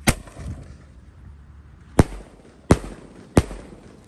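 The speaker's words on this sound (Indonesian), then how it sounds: "Ini pelontar yang warna biru 3 kali letusan Roman Candle." A blue Roman Candle launcher fires three sharp, loud pops at uneven intervals, with an earlier similar bang at the start and a quiet outdoor gap between, set off for an Eid al-Adha fireworks session.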